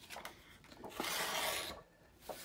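Paper torn by hand to make an envelope-style pocket, a quiet rasping rip with a few short tugs and then one longer continuous tear that fades into a small final snap, no talking.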